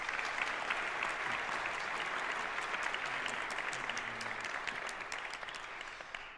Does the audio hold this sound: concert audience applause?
yes